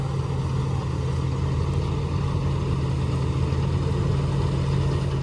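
A harvesting machine's engine runs during the wheat harvest, giving a steady, loud, droning rumble that holds constant throughout with no voices.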